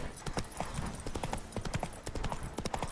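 Horse hooves clip-clop in a quick, steady galloping rhythm in The Witcher video game, loud and close, mixed with game background sound and brief snorts.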